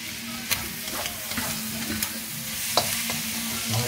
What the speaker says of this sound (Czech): Tak a necháme smažit.